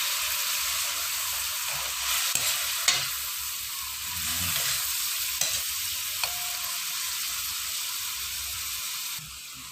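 Soy sauce sizzling in a hot frying pan as it is stirred in, a steady broadband hiss running throughout with a few sharper scraping clicks from the stirring, fairly close and with no talking.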